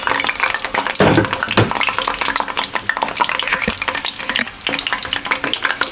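Crushed ginger and garlic frying in chilli oil over moderate heat, a steady close crackling sizzle with occasional stirring clatter and louder bursts, continuous throughout with no voices.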